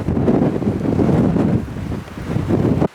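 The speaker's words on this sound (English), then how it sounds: "God, it's windy," Strong wind buffets the microphone in a steady low roar that gusts and eases in the Falkland Islands, with no voices, and cuts off abruptly at the end.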